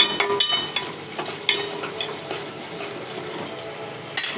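Ginger and turmeric sizzle in hot oil in a pan while a utensil stirs and scrapes, giving repeated clinks and scrapes over a soft, steady frying hiss.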